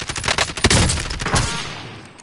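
Rapid gunfire from a video game shooter crackles in dense, overlapping bursts with a heavy shot partway through, loud and close, tapering off toward the end with no talking.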